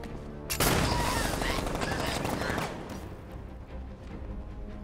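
Loud, sustained gunfire in Batman: Arkham Knight on PC: a dense burst of rapid shots that bursts in suddenly, then eases into a quieter, rumbling combat background.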